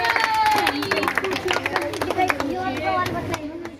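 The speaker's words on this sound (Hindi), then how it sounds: "इनके लिए एक बार बहुत जोर तालियां" Audience members clap in a scattered, uneven patter during an Islamic quiz, with voices and crowd chatter running over the claps.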